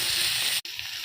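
Thinly sliced tomatoes dropped into hot oil, giving a close, steady hiss of sizzling with a brief dropout midway.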